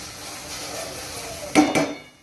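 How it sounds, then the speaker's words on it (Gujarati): Roasted semolina for rava upma is poured into a pot of boiling water. A steady bubbling hiss is followed by a short, loud, grainy rush and splash that fades as the pour ends. "હવે આપણે જે શેકીને મૂક્યો તો તે રવો નાખી દઈશું"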